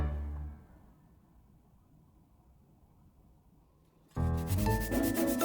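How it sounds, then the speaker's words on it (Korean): Soft, steady rubbing of sandpaper over a wood carving, faint and continuous, before music suddenly swells in near the end. "이제 마무리된 본체와 바탕을 사포로 다듬어서 부드럽게 만들어줄 차례입니다."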